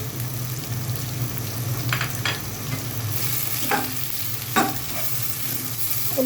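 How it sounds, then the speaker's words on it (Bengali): Onions sizzle steadily in a pan with bay leaf and cinnamon while a utensil scrapes and stirs several times, close and clear, with no talking. "পেঁয়াজটা আমি হালকা ভেজে নেব।"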